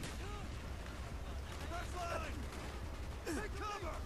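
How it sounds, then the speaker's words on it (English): Faint, distant bursts of gunfire in the video game Call of Duty: Black Ops, sitting low beneath a person talking throughout. "Oh, I keep shooting my own guys."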